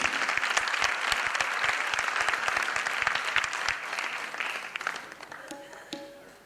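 At a ghazal concert, an audience claps warmly for the singer. The dense applause is steady and close, then thins and fades out near the end.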